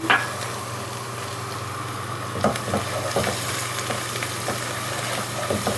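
Garlic, ginger and berbere spice fry in a pan for an Ethiopian red stew. A constant low sizzle carries scattered scraping stirs and light utensil knocks, close and steady, with no one speaking.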